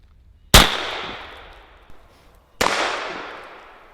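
A 12 gauge shotgun fires a harpoon round at a 5-yard target outdoors, two loud sharp shots about two seconds apart, each trailing off in a ringing echo.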